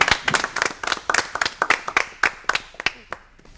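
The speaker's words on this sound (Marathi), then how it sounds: "आता आपण सगळेजण एकदा सगळ्यांसाठी जोर टाळ्या वाजवूया" A group claps loudly for everyone at the close of an acting exercise: a few seconds of crisp, dense clapping that thins out toward the end, with no speech over it.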